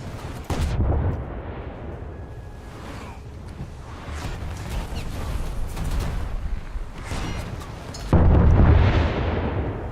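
Heavy naval guns firing at an enemy cruiser in World of Warships, a series of loud booming salvos with rumbling low end, a big blast near the end, over continuous battle noise.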